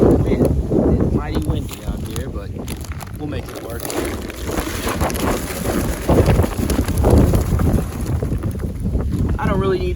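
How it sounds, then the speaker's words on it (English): Heavy gusts of wind buffet the microphone with rumbling, blustery noise throughout, while someone talks over it outdoors at a shooting range. "It's mighty windy out here"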